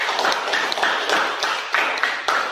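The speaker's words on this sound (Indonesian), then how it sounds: "mari kita beri aplaus buat kelompok 3" Applause for group 3 after their classroom presentation, a few seconds of bright, steady clapping from a small audience, fairly close, with no talk.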